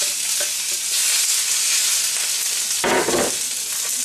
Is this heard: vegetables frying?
yes